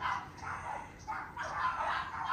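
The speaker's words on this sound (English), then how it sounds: "No, it's just for dogs. Stop barking." Dogs bark and yip in a backyard beside a fence, a busy run of close, overlapping barks filling the whole moment with no pause.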